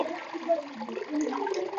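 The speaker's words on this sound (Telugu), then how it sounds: "ఇట్లా మళ్ళీ కొత్త నీళ్ళు నింపుకోవాలి" Fresh water poured into a pot holding lotus and water lily plants, a short gurgling, splashing rush that stays close and moderately loud throughout.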